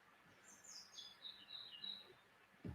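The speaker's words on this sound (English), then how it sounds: "Little robin up in the tree giving it some" A robin sings a series of high, bright warbling phrases from a tree outdoors in the evening, fairly faint and alone, with a soft thump near the end.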